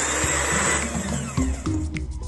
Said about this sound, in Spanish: Empezamos a batir, ya sea con varilla eléctrica o manual.